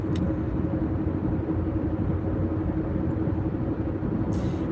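A car cruises along a smooth highway, its steady road rumble and engine hum filling the cabin with a constant, even drone and no talking.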